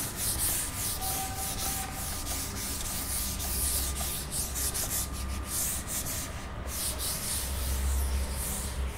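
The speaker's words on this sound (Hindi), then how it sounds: "मैं ये रब कर देता हूँ" Writing is rubbed off a board during a maths lesson, steady scratchy rubbing strokes up close in a repeated back-and-forth rhythm, with no speech.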